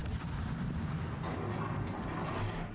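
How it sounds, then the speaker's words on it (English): Heavy rumbling naval gunfire in World of Warships, fired from a Marceau Tier 10 French destroyer, loud booming salvos blending into a continuous roar with no voices. "Nice job shooting at the Hayate for free."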